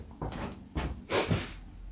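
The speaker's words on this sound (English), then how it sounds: "my partner came home through the door" A home front door opening and closing in the background while someone comes in, a few soft bumps and a latch-like clatter at moderate distance.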